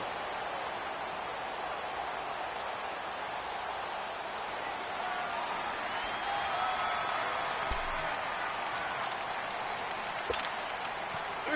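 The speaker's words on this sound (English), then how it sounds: "the crowd getting into it as we come up on a big third down" A distant, steady wash of stadium crowd noise murmurs and swells faintly during a PS4 football game ahead of a big third down, rising slightly partway through, with no clear cheer peaks.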